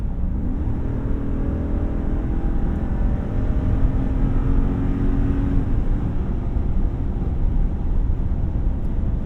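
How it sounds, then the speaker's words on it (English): A deep, rumbling 6.4-litre HEMI V8 engine of a 2024 Ram 2500 Rebel pickup roars steadily throughout, with a throaty exhaust note that swells as it accelerates; no voices. "V8 sounds great."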